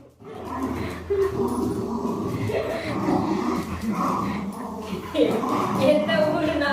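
A dog whimpers and gives short yips again and again, close by, mixed in with people talking nearby.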